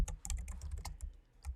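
Quiet typing on a computer keyboard, a quick irregular patter of close key clicks with no talking.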